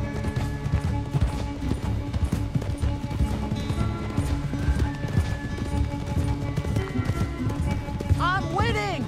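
Rapid hoofbeats of a galloping horse in Red Dead Redemption 2 run steadily under music and a talking voice, with a brief whinny-like flourish near the end.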